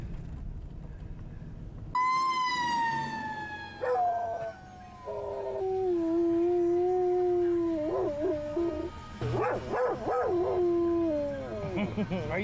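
A dog howls in long, rising and falling wails with yips and whimpering breaks, close and loud, carrying on for most of the stretch with brief pauses, a human voice faintly mixed in.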